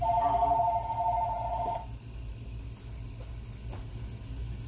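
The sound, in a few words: phone ringing in a kitchen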